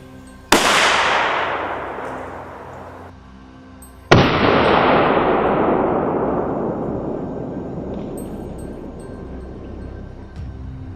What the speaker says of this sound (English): the loud bang echoed across the fields, shattering the quiet stillness of the evening